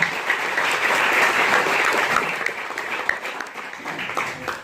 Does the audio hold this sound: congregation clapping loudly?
yes